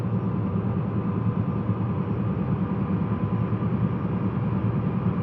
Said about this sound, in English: train to go forward instead of backwards.